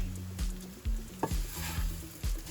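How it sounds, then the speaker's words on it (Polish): Rice tipped into vegetables in a hot pan and stirred, with a steady sizzle under repeated scraping strokes of a utensil against the pan at a regular rhythm. "Do warzyw wrzucamy ryż."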